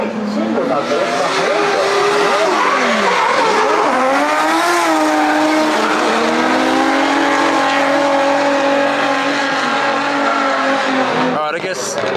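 A race car screams around a track at high revs, its engine pitch rising and dropping through gear changes and corners, with occasional tyre squeal. The roar stays loud and continuous, and a voice talks over it.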